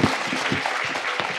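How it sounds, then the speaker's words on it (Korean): Audience applause fills a lecture hall at the close of a talk by comedian Jeon Yu-seong at the Jangseong Academy, a steady wash of clapping from a seated crowd with no voices over it. "다시 한번 힘찬 박수 부탁드리겠습니다"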